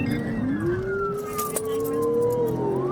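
A police car siren wails during a pursuit, a clear rising and falling tone sweeping over road and engine noise inside the vehicle.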